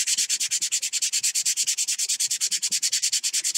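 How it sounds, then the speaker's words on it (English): Hand sanding around holes on a model rocket body tube, a steady rhythm of rapid back-and-forth rasping strokes, close and loud with no talking. "So we sand it until it feels pretty smooth."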